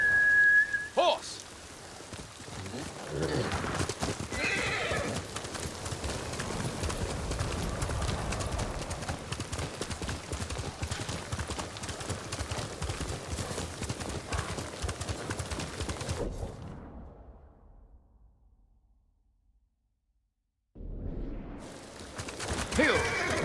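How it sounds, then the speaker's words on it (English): Horse sounds in Ghost of Tsushima: steady clip-clop of hooves over a busy game soundscape with whistling and rain-like texture, a voice calling out briefly near the start, then a sudden drop to silence before the sound returns. "Horse!"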